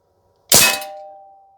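A CO2 Umarex M3 Grease Gun pellet strikes a metal target, giving one sharp close clang that rings briefly and fades out.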